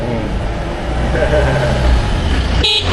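A vehicle horn toots briefly near the end, sounding over steady road traffic and engine rumble in the Philippines, heard from an e-bike, with people talking nearby.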